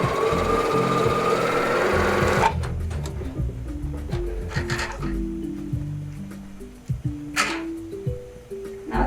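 A domestic sewing machine capable of 120 stitches runs a simple straight stitch as a steady, close mechanical whir for about two seconds, then gives way to short stepped tones and light clicks.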